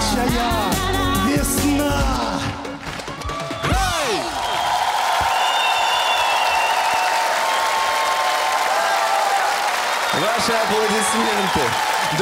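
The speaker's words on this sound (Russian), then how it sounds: "Аплодисменты." A television talent-show audience applauds after a family sings a pop song on stage. Loud clapping and crowd noise follow the fading music, with brief tonal bursts at the start and near the end, and a voice briefly rises over the applause.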